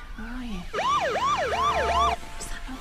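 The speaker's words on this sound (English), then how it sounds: "It's sirens." A wailing siren rises and falls in quick, repeating sweeps, loud and close, with a brief tone before and after.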